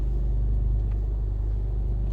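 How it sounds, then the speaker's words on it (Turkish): Car engine running steadily while being parked, a loud, close low rumble with a constant idle hum and no talk. "Şu arabayı park edeyim."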